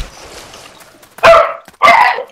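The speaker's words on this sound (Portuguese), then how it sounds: "o cachorro cala a boca" A dog barks twice nearby, loud and sharp, with faint background noise between the barks and no talking.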